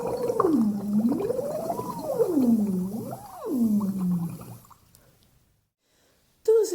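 A human voice imitates a whale's greeting call with long, swooping, wavering hoots that glide up and down for several seconds, then fall silent before a brief new sound starts.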